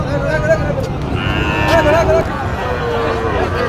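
Sahiwal bulls and other cattle moo several times amid a busy livestock market crowd in Joypurhat, with people talking in the background and a long low bellow standing out midway.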